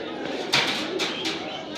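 Fancy pigeons coo at a busy pigeon market, soft low calls blended with crowd chatter and a few sharp bursts of nearby noise.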